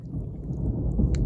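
Thunder rumbling low and steady through a summer storm, a deep continuous roll with a faint patter of rain and one brief sharp crackle near the end.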